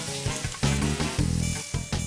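Food sizzling loudly on a very hot grill, bursts of crackling fry that surge and ease in short waves, close and without talk.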